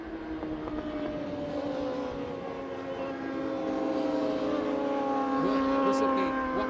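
Superbikes on the presentation lap at Interlagos, a steady layered engine drone of several machines with rising and falling tonal lines, fairly distant, under commentary.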